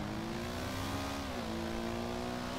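A video game motorcycle engine hums and revs steadily while riding, a continuous mid-pitched drone with slight pitch shifts, close and alone with no talking.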